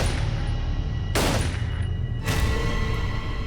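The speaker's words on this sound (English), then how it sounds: "He proceeded to shoot her twice in the face at point-blank range as Gina Gonzalez sat there listening" Two loud gunshots from a hired killer firing at point-blank range inside a house ring out about a second apart, each a sharp crack over a low, constant background rumble.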